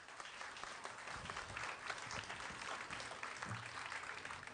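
Applause from an audience at a state assembly committee hearing, steady and moderately distant clapping throughout with no talk over it.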